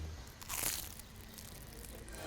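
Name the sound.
crunch of biting into a Maltese pastizzi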